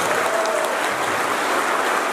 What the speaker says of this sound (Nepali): सरले ताली मारिदिने सबैको बेला